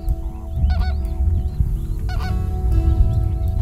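Geese honk repeatedly at close range at dusk in a delta, several calls overlapping, with other birds chirping above a low steady outdoor rumble.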